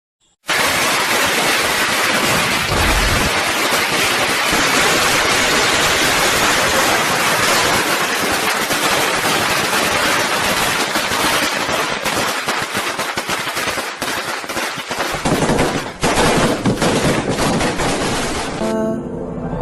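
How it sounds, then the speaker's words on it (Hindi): A long string of firecrackers goes off at a celebration, producing a dense, loud, unbroken crackle of rapid bangs for nearly twenty seconds before it thins out and stops. "पटाखे जलाते लोगों पर नजर पड़ती है।"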